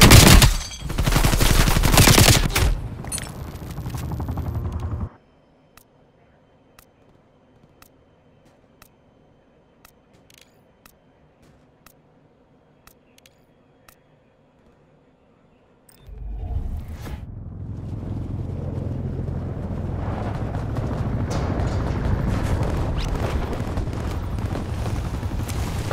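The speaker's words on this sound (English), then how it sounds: "Ataque de artillería acercándose." Artillery strike in Call of Duty Black Ops Cold War: a loud burst of rapid explosive blasts, then about ten seconds of near silence with faint ticks, followed by a sustained heavy rumble of continuing bombardment.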